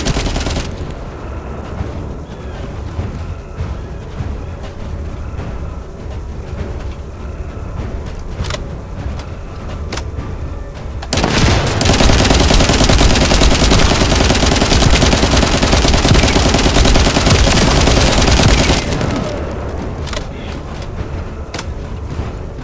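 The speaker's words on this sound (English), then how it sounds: "I'll operate turrets to keep the surrounding area secure" Rapid automatic turret fire in the shooter game The First Descendant, a continuous dense rattle that grows louder and harsher midway, then drops back to a steadier, quieter burst.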